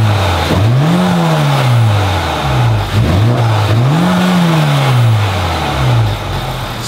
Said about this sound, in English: I want to get you guys some sound clips from up front so you can get the intake suction noise as well as the turbo whistle